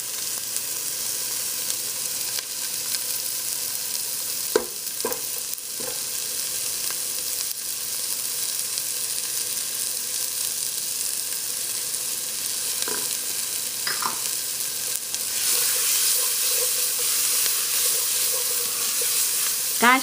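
Bell peppers frying in a pan for a coconut curry, a dense continuous sizzle and hiss throughout, close and steady, with a few faint utensil scrapes and no talking.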